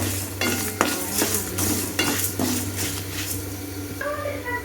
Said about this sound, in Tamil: இப்போ இதை வந்து நம்ம வந்து கருகாமல் மெதுவாக நம்ம வறுத்து எடுத்துக்கணும்